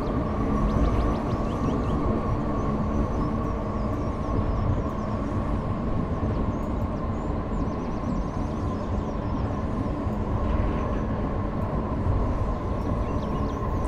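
Frankfurt U-Bahn train on line U9 toward Nieder-Eschbach in Train Simulator 2019, a steady continuous rumble and hum of the running railcar with rail noise, moderately loud and unbroken throughout, with no talking.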